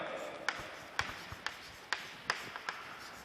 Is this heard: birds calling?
no